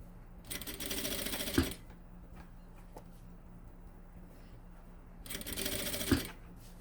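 A sewing machine stitches the lining closed on a luxury cosmetic bag in two steady bursts of motor whirring, each about a second long, separated by a quiet pause with faint handling noises.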